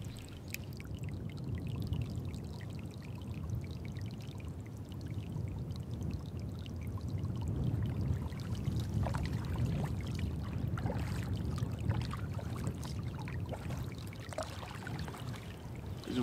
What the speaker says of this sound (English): There's a waterfall coming up, and I can hear it getting louder and louder as I get closer